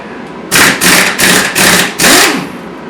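An impact wrench fitted with an Allen socket hammers at a bolt on a 2008 Kawasaki Concours 14 motorcycle in five loud, close bursts of rattling impacts with brief pauses between them.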